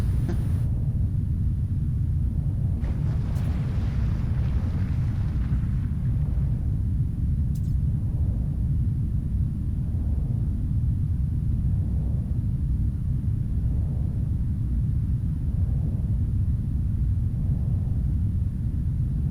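A storm rumbles continuously in the video game No Man's Sky, a low, loud, steady roar with faint periodic swells and a couple of brief higher clicks.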